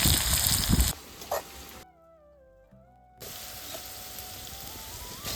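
Chili, garlic and ginger tempering in hot oil, a bright sizzle at first that drops away, then a softer steady frying hiss resumes after a brief gap.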